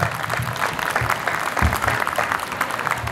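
An outdoor audience at Pride in the Park in Northfield, Minnesota, gives a short burst of steady applause that fills the whole moment without speech.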